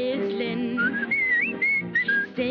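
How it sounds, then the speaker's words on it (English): A person whistles a bright, wavering tune from a 1941 comedy song, loud and close, over soft orchestral accompaniment. "I'm up at the crack of dawn whistling"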